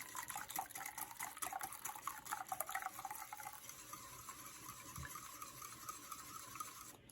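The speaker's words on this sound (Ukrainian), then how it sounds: "І добре все розбовтую вінчиком." Quick, rhythmic whisking of an egg and milk mixture in a bowl, a soft wet swishing that gradually eases off.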